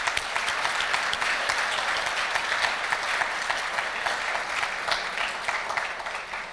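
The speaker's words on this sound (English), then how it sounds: "Let's give them a round of applause" Steady applause from an audience of donors and guests at an awards dinner, a dense, continuous patter of clapping that holds at even strength and fades slightly at the end.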